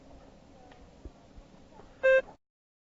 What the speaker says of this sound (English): Begin to prepare your response after the beep.